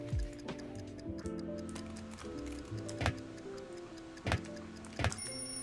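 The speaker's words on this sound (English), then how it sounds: "That is an alarm clock, and that will alert him, and it'll bring him to your location." An alarm clock in the video game Hello Neighbor 2 ticks softly under a layer of sustained game tones, with a few sharper clicks standing out near the end.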